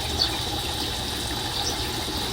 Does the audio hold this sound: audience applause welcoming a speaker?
no